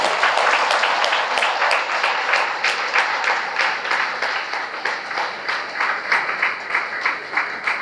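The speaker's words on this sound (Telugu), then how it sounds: "మన గురువుగారు డాక్టర్ బ్రహ్మర్షి సుభాష్ పత్రిజీకి గట్టిగా క్లాప్" A crowd at a vegetarian rally gathering applauds a guru loudly and steadily, dense clapping that carries on unbroken for the whole stretch.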